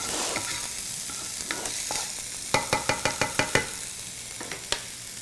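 Moroccan vegetable dishes fry and sizzle in a pan over high heat, with a steady hiss broken by a quick run of sharp clanks and scrapes from stirring, all close up and without talk.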